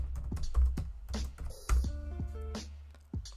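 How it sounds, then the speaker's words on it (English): Someone types quickly on a computer keyboard, a close, quiet run of distinct key clicks over a few seconds while entering a password to log in. "Let's give the password of John"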